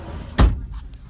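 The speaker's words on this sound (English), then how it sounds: "Okay, let me close this door over here." A door is pushed shut with a single solid thud near the microphone, followed by a few faint light clicks and rattles in an otherwise quiet space.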